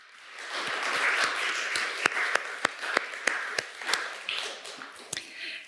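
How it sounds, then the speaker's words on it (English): An audience at a downtown town hall applauds the council members, scattered clapping that swells into a loud, steady round with several sharp, prominent claps standing out near the front. "Let's give the members of council a round of applause."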